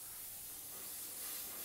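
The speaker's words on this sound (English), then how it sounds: "I'm going to spray over that layer that I just completed." An airbrush sprays House of Kolor Pagan Gold candy paint, giving a steady, close, bright airy hiss that runs unbroken for the whole moment with no talking.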